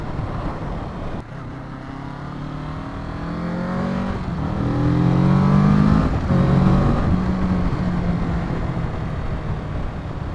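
A 2017 Kawasaki Z650 motorcycle engine drones steadily nearby, its pitch rising and falling as it revs, with a low rumbling hum throughout.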